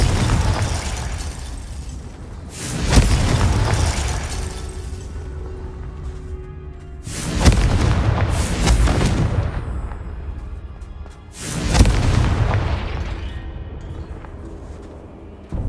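Three loud Confringo blasting spell explosions from Hogwarts Legacy, each a booming burst that decays slowly, spaced a few seconds apart, with quieter game ambience in between and no speech.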